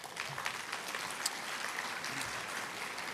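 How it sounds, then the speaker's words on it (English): Steady, fairly faint applause from an audience at a county sports awards and Hall of Fame ceremony for the 2024 inductees, an even wash of many hands clapping in a large room. "How about another big round of applause for tonight's class, 2024 Hall of Fame inductees."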